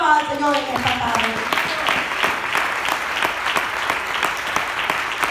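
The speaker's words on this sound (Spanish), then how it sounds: "Dele palmas al Señor en esta tarde." Church congregation applauding at a Spanish-language service, steady dense clapping throughout, with a voice heard briefly at the start.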